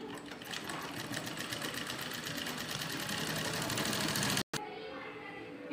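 A sewing machine stitches the sides of a jute shopping or lunch bag, running as a steady, close, rattling hum for several seconds before a brief cut and a quieter stretch at the end.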